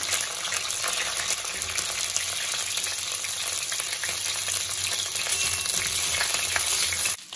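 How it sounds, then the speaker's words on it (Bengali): Cauliflower sizzles in hot mustard oil in a kadai. The close, continuous hiss and crackle holds steady for several seconds, then eases slightly at the end. "ভাজা হয়ে গেলে দেব আমি ফুলকপি,"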